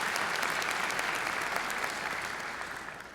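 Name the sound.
applause at nursing pinning ceremony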